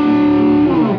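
A distorted electric guitar sustains a thick, harmonically rich note or chord, played in a classical-influenced harmonic minor style. It rings loud and steady for about a second before cutting off abruptly.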